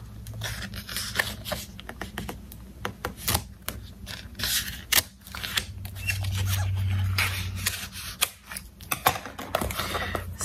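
Scissors snip and slice through thin craft paper sheets, a run of quick, close, dry rasping cuts with a steadier rubbing stretch partway through, no talking.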